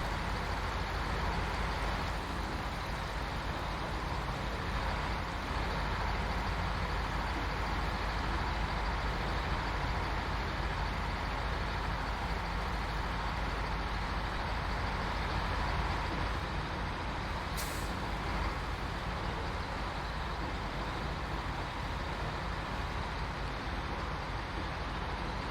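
Truck towing a trailer driving along, a steady loud broadband engine and road rumble close up, with a brief hissing burst partway through.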